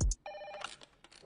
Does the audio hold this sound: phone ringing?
yes